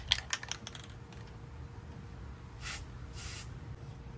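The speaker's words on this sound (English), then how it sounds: "now I'm going to take some black spray paint and I'm going to touch up all the corners and the holes" Black spray paint is applied to the corners and holes of a Bushwhacker teardrop trailer: a few light clicks and taps, then two loud hissing bursts close by, the second longer, with no talking.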